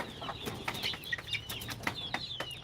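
Free-range village desi chickens on a farm cluck in a busy, overlapping chorus of short, bright notes, fairly close and steady with a few rustles among them.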